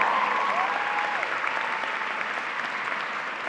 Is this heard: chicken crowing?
no